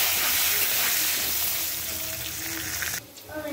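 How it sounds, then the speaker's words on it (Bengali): Potatoes frying in hot oil with turmeric powder, a steady loud sizzle and crackle filling the whole stretch, with stirring and the sizzle dropping briefly near the end. "এই তেলের মধ্যে আলুগুলোকে একটু ভেজে নেব"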